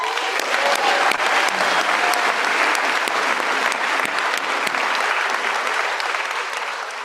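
A graduation ceremony audience applauds steadily, dense sustained clapping from a large crowd filling the hall at full strength before easing slightly at the end.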